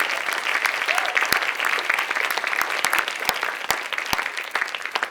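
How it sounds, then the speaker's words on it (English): An audience at a 2023 community service awards ceremony applauds the finalists, a sustained burst of clapping from a moderately sized crowd with a few sharper claps standing out, close and loud. "congratulate our 2 finalists with a round of applause"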